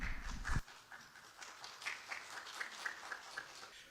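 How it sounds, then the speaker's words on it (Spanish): Applause at a university biomedical science course session: a brief burst of clapping that fades quickly into scattered, faint individual claps. "Le damos la bienvenida con un fuerte aplauso,"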